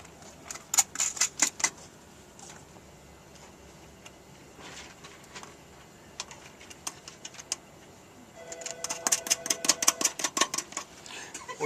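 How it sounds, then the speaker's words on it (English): Four screws being driven into an arcade monitor during an LCD replacement, heard as quick clusters of rapid ticking clicks in two main bursts with quieter scattered clicks between them, close but fairly soft. "And we put 4 screws on."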